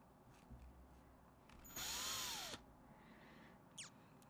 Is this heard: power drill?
yes